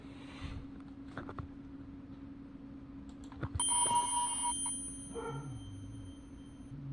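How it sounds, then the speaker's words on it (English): Sparkling, shimmering metallic chimes from a mark tree glitter high and bright over a low steady hum, rising briefly louder before trailing off into faint tones. "the beautiful pixie dust chimes. I created these ones using a mark tree."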